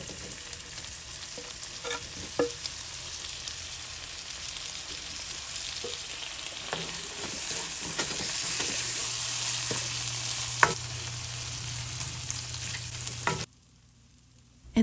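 Garlic and ginger fry in a pan with a steady, close sizzle that swells gradually, dotted with occasional clicks and scrapes, before cutting off abruptly near the end; no one speaks.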